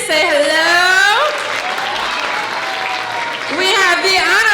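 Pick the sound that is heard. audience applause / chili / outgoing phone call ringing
audience applause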